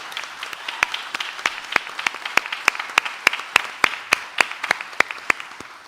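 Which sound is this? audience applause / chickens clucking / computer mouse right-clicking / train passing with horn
audience applause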